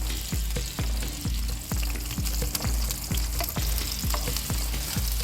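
Onions and green pepper frying in a pan for an egg masala curry: a loud, close, continuous sizzle broken by repeated sharp clacks of a utensil striking the pan roughly every half second.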